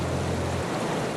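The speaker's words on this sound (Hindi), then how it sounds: "ये झरना कितना अच्छा लग रहा है नहीं?" A flowing waterfall gives a steady, loud broadband rush with no pauses, the full roar of falling water close by, a low hum dropping away partway through.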